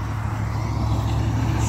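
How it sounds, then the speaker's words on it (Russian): Steady traffic on a busy highway near Karachayevsk with cars and heavy road machinery, a continuous low engine drone and hum heard from a moving vehicle, no talk. "Сколько машин, сколько техники, посмотрите."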